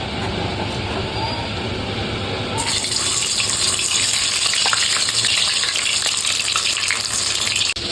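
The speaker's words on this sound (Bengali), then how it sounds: "এখন এখানে কিছু চিকেন ললিপপ ভেজে নেব।" Chicken lollipops frying in hot oil, a loud, steady close-up sizzle that bursts into a brighter, more intense crackle partway through as more pieces hit the oil, and keeps spitting for several seconds with no talking.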